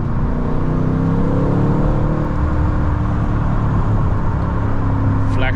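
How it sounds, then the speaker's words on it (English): A 500 hp Mercedes-AMG V8 revs hard through a downshift, its rumble loud and close throughout, with a faint crackle near the end. "Flex that big V8. Give her one more gear down."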